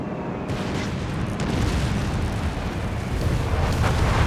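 Dive bomb explosions in the video game Company of Heroes 3: a dense, continuous rumble of blasts and booms that grows slightly louder over a few seconds, with no talk.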